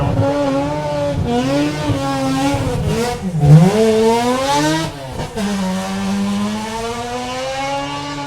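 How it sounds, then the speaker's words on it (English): Old rally car engines at a forest rally sprint, loud revving with rising and falling pitch as the cars accelerate and shift, close and harsh throughout with a brief dip midway. "noisy old rally cars, eh?"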